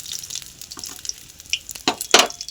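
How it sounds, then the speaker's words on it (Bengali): Hot oil drains off freshly fried prawn chops in a few scattered drips and splashy clatters. The sounds are brief and close, with a louder burst near the end and no speech. "এই দেখো তেলটাকে ঝরিয়ে দিলাম।"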